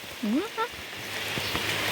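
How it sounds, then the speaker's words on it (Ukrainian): Rain falls outdoors as a soft, steady patter that runs through the whole stretch, with brief vocal sounds near the start and faint knocks later on. "І гарний припустився дощ."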